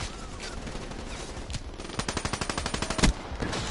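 Rapid first-person shooter gunfire rattles in a tight burst of repeated shots, followed by a single louder crack, with a busy game soundscape behind it.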